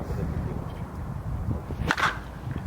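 A Juno Athletics USSSA slowpitch bat strikes a ball once, a single sharp crack near the end of the short stretch, heard over faint outdoor background.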